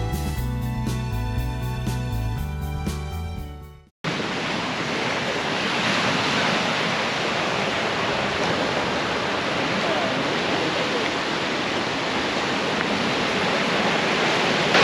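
Ocean surf on a wide beach at Barra de Cuatunalco near Huatulco, a steady, loud wash of breaking waves heard close, coming in abruptly after a few seconds of music and then running on continuously.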